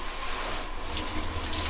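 Tap water runs steadily into a bath to fill it, a continuous close splashing gush with a soft hiss on top and no voices.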